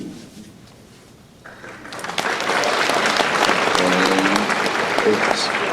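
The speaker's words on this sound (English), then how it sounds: "Golf smattering applause." Convention panel audience at a Supernatural fan event breaks into applause after a quiet start, swelling into loud, sustained clapping with some cheering mixed in.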